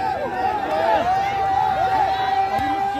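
Thousands of spectators at a volleyball match make a broad, steady crowd roar that runs continuously beneath a commentator talking loudly over it.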